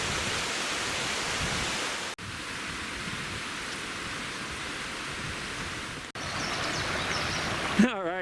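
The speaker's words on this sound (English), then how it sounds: "Right by the creek." Continuous rushing water from nearby Seneca Creek, steady and hissing, with a couple of brief dropouts and a short bump near the end.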